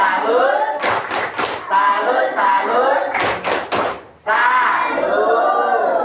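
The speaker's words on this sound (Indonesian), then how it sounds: "kasih tepuk salut dulu" Short bursts of hand clapping from participants in an Arabic-language teaching session, coming in two quick rounds of a few sharp claps each, set between stretches of steady talking.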